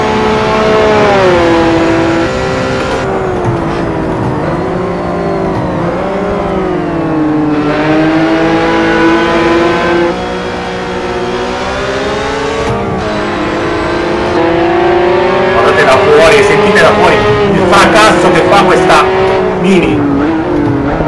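Mini engine in an Assetto Corsa racing game mod roars steadily for about twenty seconds, pitch rising and falling through gear changes with a harsher burst of revving near the end; a voice talks over it throughout.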